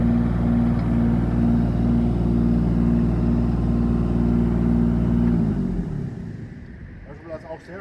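A Eurocomach 19TR mini excavator's diesel engine runs at a loud, steady, close-up idle, then winds down and cuts off, leaving faint clicks and ticks in the quiet.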